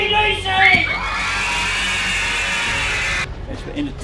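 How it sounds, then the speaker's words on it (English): A library audience at a live storytelling show yells and screams together, a loud sustained burst of cheering and whoops lasting a few seconds before cutting off, with a voice briefly heard before it. "I want you to yell and scream like I'm AC/DC!"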